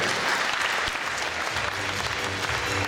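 A crowd at a KVN comedy competition applauds a guest deputy minister, giving dense, sustained clapping that stays loud throughout.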